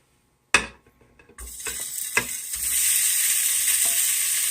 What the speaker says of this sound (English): So in a nice hot pan, let's cook our chorizo in.